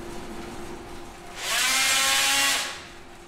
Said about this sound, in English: So that sound is the blade oscillating from side to side.